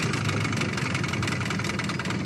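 An outboard motor on a fishing boat runs steadily close by after a rope-pull start, giving a loud continuous buzzing drone without pauses or talk.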